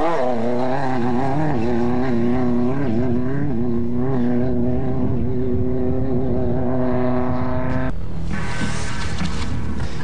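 Off-road race car engine in the 2009 Terrible Herbst 250 desert race, a loud sustained roar with wavering pitch as it revs and holds, then a sudden shift to broadband noise near the end.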